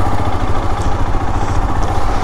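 A motorcycle engine runs steadily on a monsoon ride to Malshej Ghat, a continuous close rumble with mechanical clatter and no voices.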